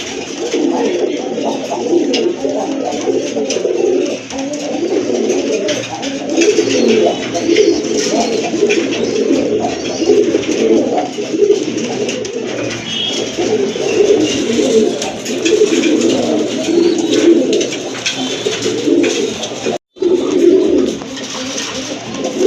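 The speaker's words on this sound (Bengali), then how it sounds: "এই যে দেখেন কবুতর জোড়া" A pair of pigeons coo continuously at close range, with a dense, throaty burbling that carries on steadily throughout.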